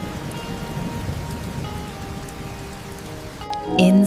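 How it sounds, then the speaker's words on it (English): Steady rain pattering on a roof, a dense, continuous hiss of drops with a low rumble underneath, swelling slightly louder near the end. "Outside, the rain tapped gently on the roof."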